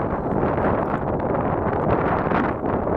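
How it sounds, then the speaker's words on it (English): Strong early-morning wind on Bukhansan mountain in South Korea, a loud continuous roar and buffeting across the microphone with no talk. "As I'm sure you can hear, it is exceedingly windy at that time of the morning."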